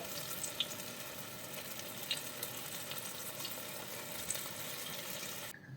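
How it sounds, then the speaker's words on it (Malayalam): Cauliflower frying in oil for chilli gobi, a steady, moderately quiet sizzle and bubbling with faint crackles throughout, ending with a brief drop at the close; no talking. "മാക്സിമം എണ്ണ കുറച്ച് വറുത്തെടുക്കാം."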